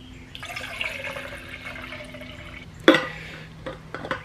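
Water poured from a bottle into a cup, a steady trickling splash lasting a couple of seconds, followed by a sharp knock and a few small clatters.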